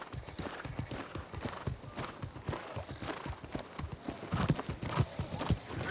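Rhythmic clip-clop of a horse's hooves at a quick gallop in the video game New World: Aeternum, steady and close, with a brief whinny rising near the end.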